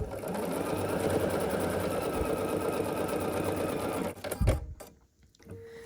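Sewing machine stitching quilt block pieces, a fast steady whirring chatter of the needle running continuously, close up, then stopping abruptly with a few clicks of handling the fabric.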